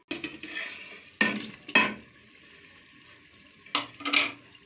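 Leftover potatoes go back into a curry pan with several distinct clanks and scrapes of a utensil against the pot, separated by quiet stretches and soft simmering.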